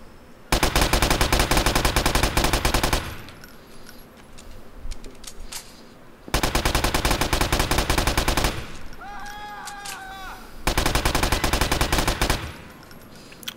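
Modded MP5 submachine gun firing in Grand Theft Auto IV with replaced sound effects: three long, loud bursts of rapid automatic fire, separated by quieter pauses with faint ambient game sounds and brief chirps.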